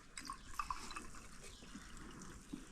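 Water trickling and splashing as it is poured into lemon sherbet in a container, soft and close, with a few small bright drips.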